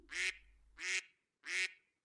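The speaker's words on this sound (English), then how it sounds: "Yoo-hoo duck and ducklings" Three loud, close duck quacks, evenly spaced and nasal, each clipped off cleanly with near-silence between them.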